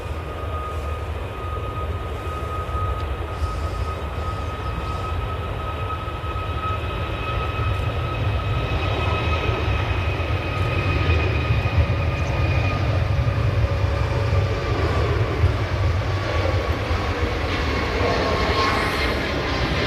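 Ryanair Boeing 737 MAX 8 jet departing Manchester Airport for Malta, a sustained engine roar with steady whining tones that slowly swells in loudness over the whole stretch, heard at a distance with no talk.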